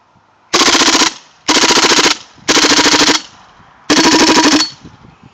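Four loud bursts of full-auto fire from a KWA MP7A1 airsoft gun fitted with a Matrix QD silencer, each a rapid buzzing rattle lasting about half a second, separated by short pauses.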